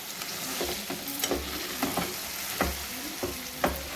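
Chili powder being stirred into a frying gongura botti curry: a continuous sizzle broken by regular scraping strokes of a spoon against the pan, close and fairly loud.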